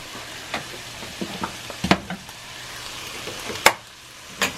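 Ground beef frying in a cast iron skillet, a steady low sizzle broken by scattered scraping and stirring clicks, with a few sharper clanks from the utensil against the pan; no talking.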